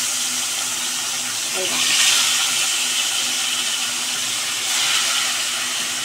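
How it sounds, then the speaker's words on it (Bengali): Three whole Bata fish, one of them carrying roe, fry in hot oil in a kadai, giving a steady loud sizzle and hiss with small swells. A voice speaks over it now and then. "এবার মাছগুলো ভালো করে ভেজে নেব।"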